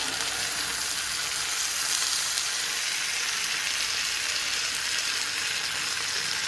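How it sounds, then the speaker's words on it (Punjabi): Kundru (ivy gourd) frying in mustard oil while being stirred, a continuous close sizzle that holds steady throughout without any voices. "ਸਰੋਂ ਦੇ ਤੇਲ 'ਚ ਆਪਾਂ ਬਣਾਈ ਜਾਂਦੇ ਆਗੇ ਚੰਗੀ ਤਰ੍ਹਾਂ ਆਲਟਾ ਫਟਾ ਕਰ ਦਾਂਗੇ ਇਹਨਾਂ ਨੂੰ"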